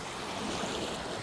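Ocean surf washes onto a beach littered with drifted garbage. It makes a continuous wash of noise with a little wind mixed in, and no one speaks.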